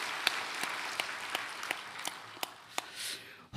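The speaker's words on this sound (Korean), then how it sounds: "성령님께 선제박수로 영광 돌리겠습니다." A church congregation at a Sunday worship service claps rhythmically, about three claps per second in a steady beat, with a diffuse crowd wash beneath.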